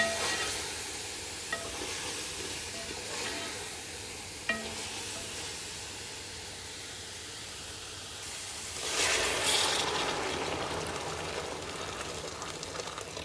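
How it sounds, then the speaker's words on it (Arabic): Mushrooms for kabsa sizzle and get stirred in a hot pot, a steady quiet frying hiss with occasional scrapes and a louder surge of sizzle partway through. "الحين أحمس مرة ثانية"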